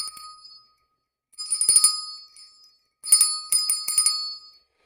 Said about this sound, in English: Dirty wants me to ring the bell 3 times, and I will ring that bell 3 times.